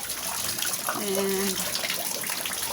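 Water leaking through a taped basement window frame runs in a steady, close trickle and splash that never stops, while a voice briefly speaks over it.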